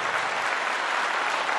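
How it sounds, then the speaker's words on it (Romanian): Steady audience applause at a Romanian gala concert on stage in Timișoara, dense continuous clapping filling the hall without pause, loud and even throughout. "Evident, aplauze și pentru cei doi"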